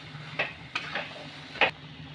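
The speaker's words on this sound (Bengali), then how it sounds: "এবার দেব আমি সিদ্ধ করে রাখা সয়া বড়ি আর ম্যাশ করে রাখা আলুটাকে। মশলার সাথে ভালো করে মিশিয়ে নেব।" A spoon scrapes and clinks in a pan as boiled soya chunks and mashed potato are stirred into fried spices, a few sharp taps over a soft background sizzle.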